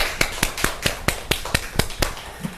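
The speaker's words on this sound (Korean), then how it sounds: "하나님께 영광의 박수 올려드리겠습니다" Congregation clapping in praise during a Sunday worship service at a Korean church: about ten evenly spaced, sharp claps in a quick steady rhythm, fairly close, with no talking.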